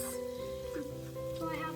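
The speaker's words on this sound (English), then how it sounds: "Saute this for a few minutes" Onions sautéing in a pan for potato soup, a steady close sizzle with faint stirring, running alone throughout.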